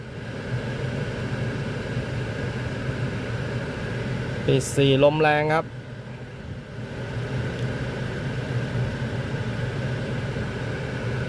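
Steady broadband whoosh of a Honda City's air conditioning blower running continuously, with a brief burst of talk in the middle.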